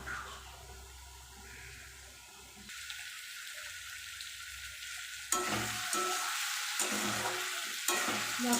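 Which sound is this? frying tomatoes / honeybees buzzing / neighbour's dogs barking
frying tomatoes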